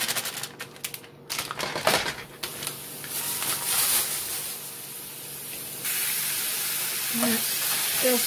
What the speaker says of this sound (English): let's get the ground beef started